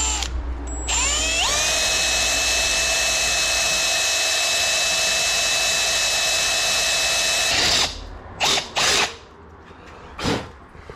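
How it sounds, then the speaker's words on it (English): A power drill whines at high speed for several seconds while drilling holes in a car bumper bracket, then stops; a few short bursts follow, spinning up and down briefly. "we'll drill a couple holes and then clean it up with something"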